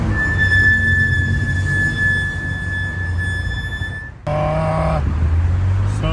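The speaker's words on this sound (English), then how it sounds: "I put track spec pads on my fast road car, and as a result had them squealing" A fast road car fitted with track-spec brake pads lets out a loud, sustained high-pitched brake squeal for about four seconds, then cuts off abruptly as the car comes to rest with engine and road noise.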